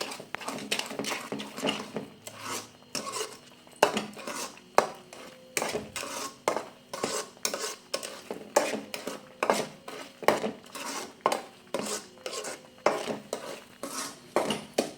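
Mango sheera with sugar is stirred in a pan, a long run of quick rhythmic metal scrapes and clinks from a spoon against the pan, close and steady with no talk.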